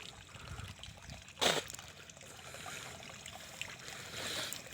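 Quiet irrigation water trickles and flows steadily through a chickpea field, with a brief louder splash near the start and faint background noise.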